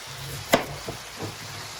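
A soft hiss of meat frying in a pan, broken by a sharp utensil scrape against the pan and a couple of quieter stirring sounds.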